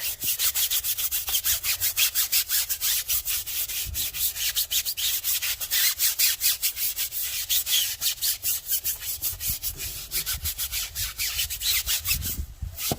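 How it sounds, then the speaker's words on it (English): A tyre scrubber brush working gel into a car tyre: a steady, rapid back-and-forth scrubbing rasp, close and loud, repeating evenly throughout, with no talking. "got my tyre scrubber and a couple of sprays into the brush"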